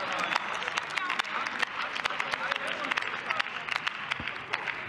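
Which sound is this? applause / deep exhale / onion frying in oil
applause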